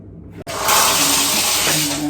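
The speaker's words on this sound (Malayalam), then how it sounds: "ഇത് പ്രസ് ചെയ്ത് കഴിഞ്ഞാൽ മുകളിൽ നിന്ന് നമുക്ക് ഷവർ കിട്ടുന്നതായിരിക്കും" A hospital room shower is switched on with a click and water then pours steadily from overhead, a loud close hiss of spray filling the small space.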